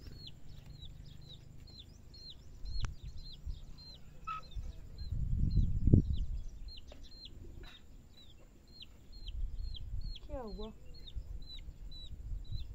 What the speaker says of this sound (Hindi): मुर्गियों की आवाज़ आ रही है।